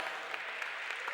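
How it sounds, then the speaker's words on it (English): Steady crowd applause at a college sports hall of fame recognition during a women's basketball game, a dense, even wash of clapping throughout the short moment. "Another round of applause for our"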